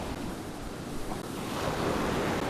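Sea waves wash steadily against a shore lined with crumbling clay waste barriers, a continuous surf roar mixed with wind buffeting the microphone, with no voices.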